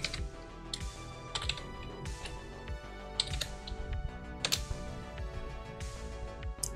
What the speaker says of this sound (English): now you want to type in unlock all.